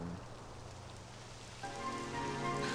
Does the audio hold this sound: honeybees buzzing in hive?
no